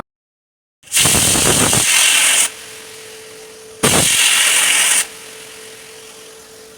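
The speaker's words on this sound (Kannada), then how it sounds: "ಟೊಮೆಟೊ ಈರುಳ್ಳಿ ಬೆಳ್ಳುಳ್ಳಿ ಶುಂಠಿ ಇದನ್ನೆಲ್ಲ ಹಾಕ್ಕೊಂಡು ನುಣ್ಣಗೆ ರುಬ್ಕೋತಾ ಇದ್ದೀನಿ" Mixer grinder blending tomato, onion, garlic and ginger without added water, two loud whirring bursts separated by a pause, each with a steady high-pitched motor roar that stops abruptly.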